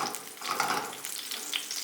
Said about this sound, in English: now that the oil is nice and hot, I'm going to throw in our leeks. Get that with a bit of a fry on the go.